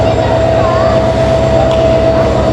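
The Chattala Express train at Kamalapur railway station, with a loud continuous low rumble, rhythmic wheel thumping and a steady whining tone throughout, heard close by.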